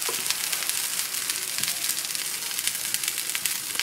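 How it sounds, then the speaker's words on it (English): Broccoli grills on a stove top, giving a steady close sizzle and crackle with occasional pops, alone without talk. "can you smell the broccoli cooking? How's that for grill on the stove top?"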